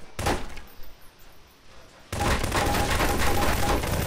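Gunshots ring out in a Garry's Mod Prop Hunt match: one sharp burst, a quieter pause, then a sudden loud run of rapid gunfire that keeps going to the end.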